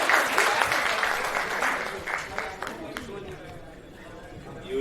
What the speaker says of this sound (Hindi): चलिए इन सभी गर्ल्स के लिए जोरदार तालियां बजाएंगे